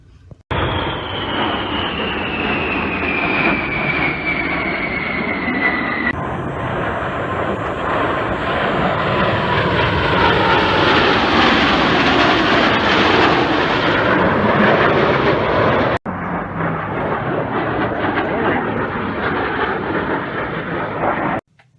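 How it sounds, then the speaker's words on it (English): Blue Angels jets roar overhead at an air show, a loud continuous rushing engine roar with a falling whine as they pass, lasting the whole stretch with a brief break. "we're gonna watch the Blue Angels fly again today"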